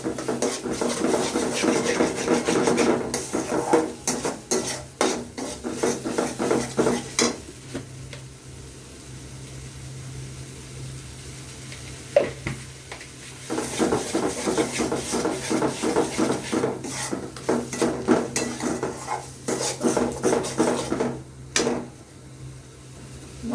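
Masala for a katla fish kalia being stirred in a pan, with repeated scraping strokes and clinks against the metal in bursts, separated by a quieter stretch of low frying sizzle.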